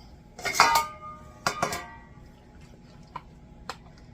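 Serving utensil clanking against a plate while dishing out green bean and potato casserole, with a couple of sharp ringing clinks early on, then a few quieter, scattered taps and scrapes in a quiet kitchen.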